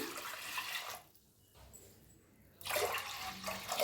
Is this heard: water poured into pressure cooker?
yes